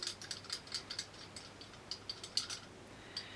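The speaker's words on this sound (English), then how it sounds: "I can just carefully grip the edge of that bolt and just loosen it and edge it out" Locking grips loosening a rounded-out stem bolt on a Wattbike Atom exercise bike, producing a series of faint, close metallic clicks and ticks in an irregular rhythm.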